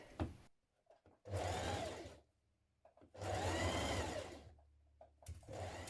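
A sewing machine stitches seam binding along the upper edge of a skirt, running in two long loud whirring bursts with short pauses and faint handling clicks between them, no talking.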